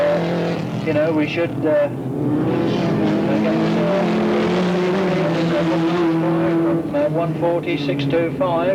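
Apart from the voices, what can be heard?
hand-built race cars with 2-litre Ford Pinto engines racing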